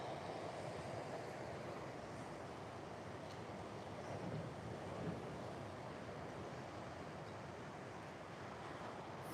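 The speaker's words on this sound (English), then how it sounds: "Some fun waves." Ocean surf breaking at Snapper Rocks on a sunny, windless day, heard as a steady, broad wash of water that rolls on without pause and with no voices.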